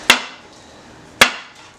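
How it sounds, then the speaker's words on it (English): Two sharp metallic hammer strikes about a second apart drive down a seized piston in the cylinder of a 1977 Honda CT90 Trail, each hit loud and close with a brief ringing decay. "then we will be able to hit the piston down a little bit further."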